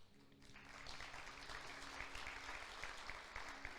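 A church congregation applauds during a Portuguese-language service, a steady, full-room wash of clapping that stays dense and even from start to finish, with no talking on top.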